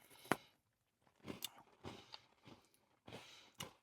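Someone bites and chews a dark chocolate Milano cookie, giving a handful of sharp, quiet crunches spaced across a few seconds with brief pauses between bites, close to the microphone and nearly free of talk.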